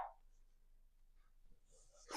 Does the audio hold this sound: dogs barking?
yes